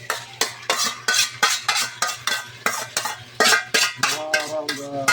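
Marinated chicken goes into a pan of sautéed garlic and onion, then a utensil stirs it in a quick, steady run of scraping strokes over a constant sizzle, close up and with no voices.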